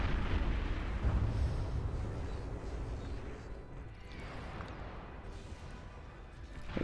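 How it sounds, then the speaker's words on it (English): A bombing run in a large 8v8 Beyond All Reason battle produces a continuous roar of overlapping explosions, loud and dense at first, easing slightly, then swelling again at the end. "It looks like another bombing run coming in from Blue."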